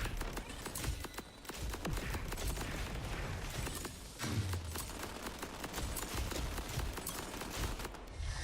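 Rapid, dense gunfire crackles through a Borderlands 4 firefight, continuous bursts layered over busy game noise at steady loudness throughout.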